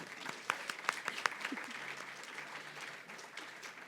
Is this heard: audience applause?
yes